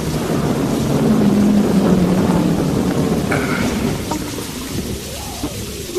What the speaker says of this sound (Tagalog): Masyado nang malakas ang ulan.